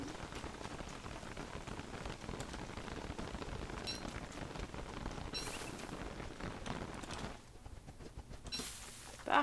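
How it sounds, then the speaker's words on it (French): Steady, soft rain patters continuously in a video game, a faint even hiss with a brief lull and a final louder burst near the end. "ça s'arrête de pleuvoir juste au moment où je vais avoir besoin d'avoir autre chose à la main que mon parapluie"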